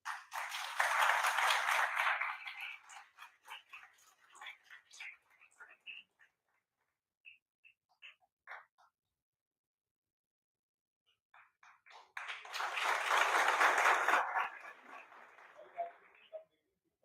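Two bursts of audience applause at a Trade Winds 2025 trade conference in India, a few seconds of full clapping at the start, then scattered claps and quiet, then a second swell of applause near the end.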